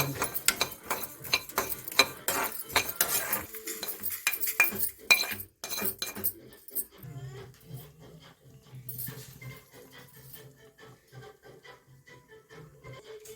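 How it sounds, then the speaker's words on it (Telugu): Mustard seeds fry in a pan on low heat while being stirred, with dense rapid crackling and popping plus metal utensil scrapes and clatter, then a quieter sizzle with sparse pops. "ఆవాలు 1 స్పూన్ వేస్తా ఉన్నాను. ఇది స్లోలోనే పెట్టుకొని వేపుకోవాలండి బాగా."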